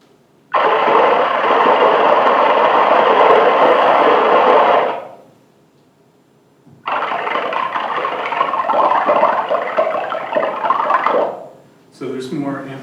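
Two synthesized bubble sounds rendered with acoustic transfer from a physics-based animation, each a dense burst of about four to five seconds separated by a short silence, with a voice starting at the very end.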